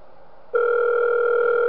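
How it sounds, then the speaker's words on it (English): A telephone starts ringing in the horror game Five Nights at Wario's, a sudden steady electronic two-tone ring that cuts in after a quiet moment and holds clearly and loudly. "Alright, we get a phone call."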